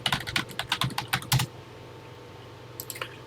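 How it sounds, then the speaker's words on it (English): Rapid clicking of a modern PC keyboard typing a TI-99/4A program into an emulator, a quick burst of keystrokes, a pause, then a few more taps, close and fairly quiet. "let's get typing"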